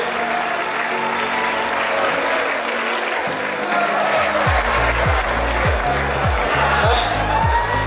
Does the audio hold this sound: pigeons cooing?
no